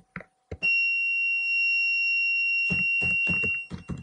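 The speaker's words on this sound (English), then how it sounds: "I'm just going to save and run this again so I can test that my buzzer's working." Electronic buzzer of a homemade laser light security alarm switched on, a steady continuous tone held for about three seconds, with brief clicks before it and a person speaking over the final second.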